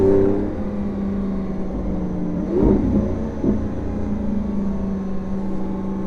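A Lamborghini Aventador drones steadily through a hot lap at the Highlands circuit, a deep, even engine hum heard from inside, with brief surges partway through.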